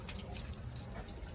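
Water fills the rusty, stuck pump housing of an International Detroit Diesel fire truck, a faint, brief trickle and drip with no speech.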